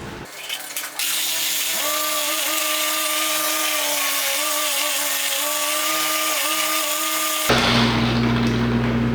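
A polishing machine runs at low speed on the hood of a 2008 Subaru STi during a paint detail, a loud steady whirring drone with slight pitch wobble, starting and stopping abruptly.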